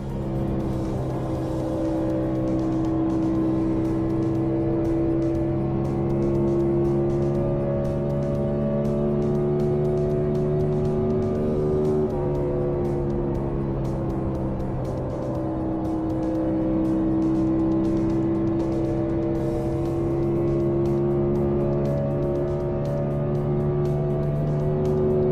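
Race cars lapping a short track, heard as a continuous loud engine drone that holds steady for the whole stretch, its pitch rising and falling slightly as the cars circle, with no talking.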